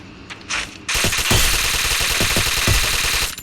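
Loud automatic weapon fire in the Free Fire game, a couple of short bursts followed by a long continuous rattle of rapid shots, close and dominant, without talking.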